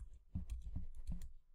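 A few quick keystrokes on a computer keyboard, three soft close clicks in a short burst, faint and alone.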